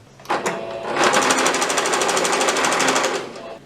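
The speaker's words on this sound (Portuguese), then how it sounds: "Agora eu vou passar uma costurinha de segurança, meninas, pro bracinho" A sewing machine stitches a safety seam along the edge of a plush teddy bear's arms, running steadily at a fast, even rhythm for about three seconds, close and loud after a couple of brief start-up knocks.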